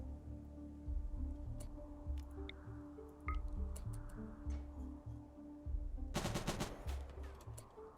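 Heavy machine gun fire in a multiplayer video game, heard as a dense, loud burst of rapid shots near the end after quieter game ambience and scattered clicks.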